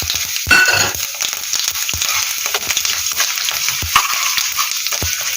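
Mustard seeds, fenugreek and asafoetida hit hot oil for a Telugu cut-vegetable pickle, a steady loud crackling sizzle with sharp popping bursts near the start and scattered pops throughout.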